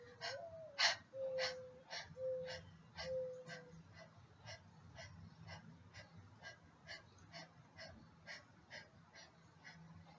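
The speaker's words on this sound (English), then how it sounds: "you should be able to hear yourself breathing out as heavily as possible" Rhythmic, forceful exhaling breaths pushed out one after another at a steady pace during a yoga session, close and fairly loud, with a faint low hum underneath.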